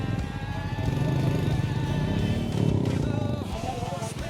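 A motorcycle engine idles steadily and close, a low continuous rumble at a roadside police stop on the road from Sikkim to Nepal, with faint voices in the background.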